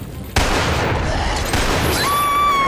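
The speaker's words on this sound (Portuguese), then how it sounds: "Não acredito que você errou um tiro queima-roupa, Fiona." A point-blank gunshot in the video game Resident Evil 4 bursts in abruptly and loud, followed by a sustained harsh blast of noise with ringing tones emerging near the end.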